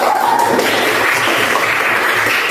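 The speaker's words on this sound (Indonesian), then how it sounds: "Dari tepuk tangan untuk kelompok satu." Classroom applause from students cheering the first discussion group, a dense steady wash of many hands clapping at close range for a few seconds.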